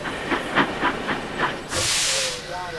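A steam engine lets out a loud, broad hiss after a run of rhythmic puffs, part of a Thomas the Tank Engine story about snowy weather, with no voices over it.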